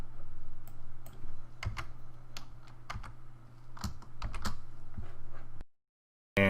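Computer keyboard keys clack as code is typed into a web development editor, bursts of quick irregular taps in a quiet room, near and clear, ending abruptly in silence.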